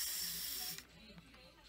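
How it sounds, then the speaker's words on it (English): A steady, loud hiss of spray foam being dispensed from a can through a straw into a wall cavity, cutting off abruptly partway through, followed by quieter faint handling sounds. "We're going to start spraying."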